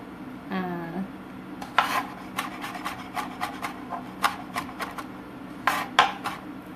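A knife chopping on a cutting board while preparing a citrus chicken soup, a string of sharp, fairly close taps in an uneven rhythm, with a brief scraping rub near the start and no talking.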